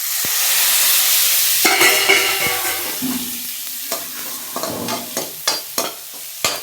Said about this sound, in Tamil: நல்லா வதங்கிடுச்சு இப்போ சாசரை போட்டுக்கலாம் கருவாடு போட்டுக்கலாம்